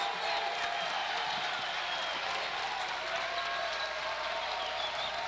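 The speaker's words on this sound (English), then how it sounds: "Crowd coming alive, Scott." Basketball crowd at a 1998 Samford versus College of Charleston college game, a steady wash of cheering and applause filling the arena without letup, close and dense.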